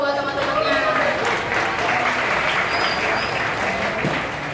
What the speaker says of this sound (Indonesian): Oke, tepuk tangan dulu dong buat teman-temannya.